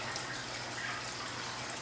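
A hang-on-back aquarium filter with no pad keeps a continuous trickling, splashing flow of water going into a fish tank. The sound is steady and close, with no voices over it.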